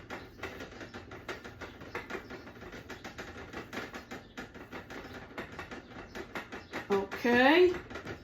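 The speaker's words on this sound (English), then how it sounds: "the background noise is the pot boiling" A pot boils steadily with a dense, rapid bubbling patter throughout, close by, and a short rising whine near the end.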